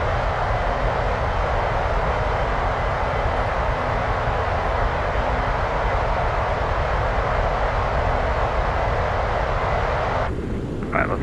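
TFDi Design MD-11 engines in Microsoft Flight Simulator roar as a loud, steady broadband drone with a faint low hum during a climb. The sound continues unbroken, then cuts off abruptly near the end.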